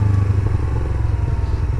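A scooter engine buzzes close by in a street scene, a loud throbbing low putter with a slight rattle that fades a touch as it moves past.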